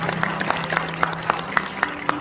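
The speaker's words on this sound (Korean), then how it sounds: "다시 한번 박수하도록 하겠습니다" A congregation claps during a church ordination and installation thanksgiving service, a rhythmic, moderately loud round of clapping in steady beats with murmuring voices beneath.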